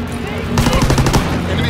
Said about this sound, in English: Enemy strafing